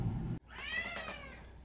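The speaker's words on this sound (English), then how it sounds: "You can hear the cat meowing." A cat lets out a single drawn-out meow, fairly close and clear, on a crisp sunny fall day in Indianapolis; a burst of low rumbling room or wind noise cuts off just before it.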